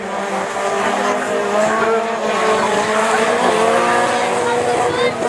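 Rallycross race cars from the Division 4 class of the 2012 French championship at Lessay run on track, with loud continuous engine roar and some tire squeal while a commentator talks over it.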